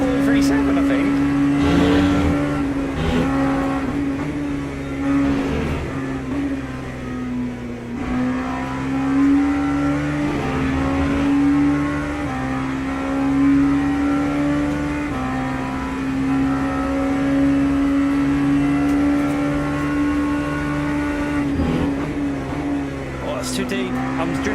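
A race car engine in the Le Mans Ultimate racing game holds a loud, steady whine that shifts pitch gently through gear changes and corners, with someone talking over it.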